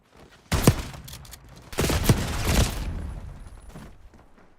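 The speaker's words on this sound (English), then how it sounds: "Oh, I have a shotgun." Bursts of shotgun fire in the Black Ops 6 video game: two loud, heavy blasts a second or so apart, each with a booming tail, then fainter gunfire trailing off, no talking.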